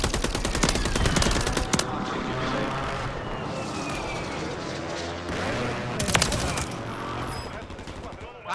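Rapid bursts of video game gunfire crackle repeatedly, some nearby and some distant, while voices talk over the shooting.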